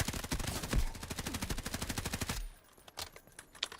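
Rapid automatic gunfire from the video game Delta Force, a loud sustained burst of closely spaced shots that cuts off, followed by a few scattered distant shots.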